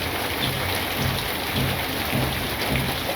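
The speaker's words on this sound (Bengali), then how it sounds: "একটু বৃষ্টি হয়" Steady monsoon rain pours down on a village, a dense, even hiss of drops on surfaces, close and unbroken with no voices.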